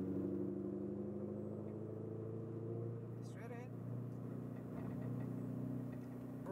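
A Ferrari 488 GTB engine hums as it is driven in Las Vegas, a steady low drone that sits beneath a driving instructor's talk.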